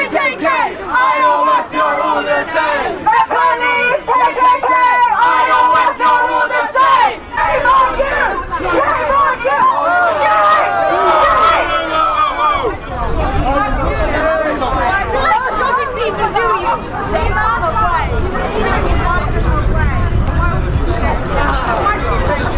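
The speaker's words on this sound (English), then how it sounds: "It's quite a big crowd." Large protest crowd packed into Trafalgar Square in London, a steady dense hubbub of many voices chattering near and far, continuous throughout with occasional louder swells.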